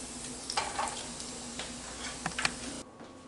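A chicken patty for a junior chicken burger sizzles steadily in hot frying oil, with a few sharper spits and pops. The sound stops abruptly near the end, leaving quiet.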